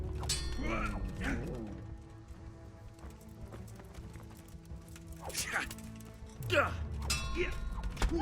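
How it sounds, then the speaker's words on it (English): A dog barks in several short bursts in the medieval video game Kingdom Come: Deliverance, over the clip-clop of horse hooves and game noise, with someone talking at times. "That dog just gets in the way constantly."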